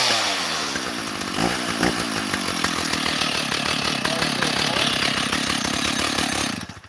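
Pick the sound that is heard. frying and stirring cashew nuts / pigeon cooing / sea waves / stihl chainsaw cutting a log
stihl chainsaw cutting a log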